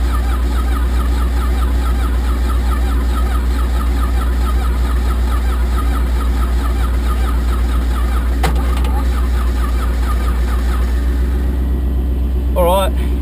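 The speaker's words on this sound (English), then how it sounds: "we've got a really good crank out of it now" A VJ Valiant engine cranking on its first start in 25 years: a steady, loud, continuous starter-motor churn and engine drone throughout, with a brief metallic clank partway through and a voice near the end.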